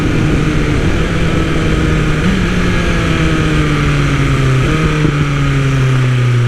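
A 2020 BMW S1000RR M sport motorcycle with new mods installed makes a loud, steady engine drone whose pitch drops in distinct steps through quick clutchless downshifts.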